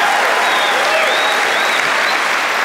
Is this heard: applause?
yes